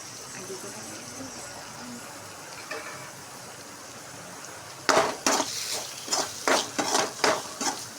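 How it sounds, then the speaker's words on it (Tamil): Cumin powder stirred and sautéed in a pan, heard as a run of sharp clinks and scrapes of a spoon against the pan in the second half, following a quieter stretch of low background noise. "நல்லா போட்டு வதக்கி விட்டுக்கலாம்"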